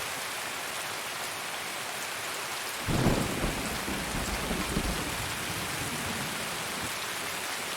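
Steady, hissing rain falls in the video game Escape From Tarkov. A rumble of thunder swells in after a few seconds, then fades back into the constant downpour, with no voices.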